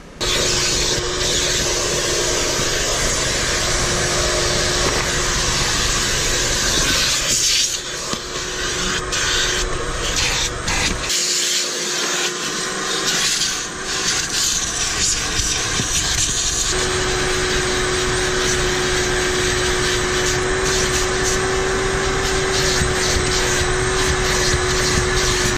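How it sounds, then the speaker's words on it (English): A loud, continuous vacuum cleaner drone runs throughout inside a car interior, close by, with brief dips and shifts in pitch as the nozzle moves. "Next thing I like to do is just vacuum the shit out of this car."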